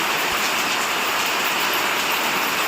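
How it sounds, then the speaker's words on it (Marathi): Light rain falls steadily over the Konkan countryside, a soft continuous hiss of drops with no voices, even and unbroken throughout. "थोडासा पाऊस आलाय बघा"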